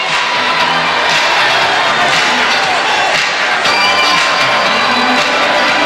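A crowd of several thousand cheers and shouts inside an arena during a 1985 high school boys basketball state championship, a loud continuous roar with scattered whoops and yells rising above it.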